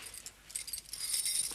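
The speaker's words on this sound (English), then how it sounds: "Put the keys on the desk." Keys jangle and clink near a safe being opened at gunpoint during a robbery, a series of bright metallic rattles that grow busier and louder toward the end, with no talking.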